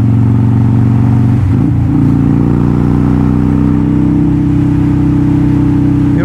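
A loud Sterling motorcycle with a loud exhaust chugs at low revs, its deep rumbling tone dipping briefly before settling into a steady, slowly rising hum.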